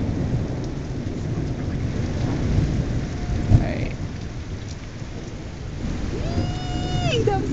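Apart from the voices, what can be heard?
thunder and rain of a lightning storm in Colorado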